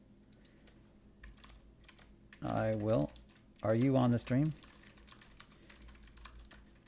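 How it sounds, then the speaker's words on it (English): Rapid clicking keystrokes on a computer keyboard patter steadily at close range, with a couple of short spoken phrases breaking in over the typing. "I really like this keyboard. I just need to learn how to type better on it."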